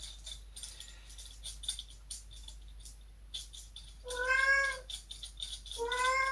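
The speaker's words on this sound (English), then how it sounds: "Sorry about the cat," A cat meows loudly twice near the end, long drawn-out calls close by, after a stretch of quiet clicking and rustling.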